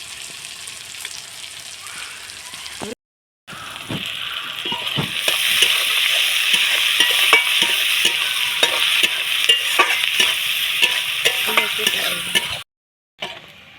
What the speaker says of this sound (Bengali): পেঁয়াজগুলো ভালো করে ভেজে নেব লাল লাল করে